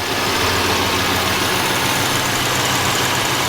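A 1986 Oldsmobile Cutlass pulled from a junkyard, running on a brand new fuel pump with a leaking gas line, idles steadily and loudly up close with a continuous, even engine drone.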